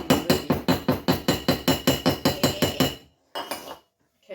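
Keto cheesecake mixture stirred by hand in a bowl: a fast, steady series of about a dozen loud, close scraping and clinking strokes, then a short pause and a few more strokes.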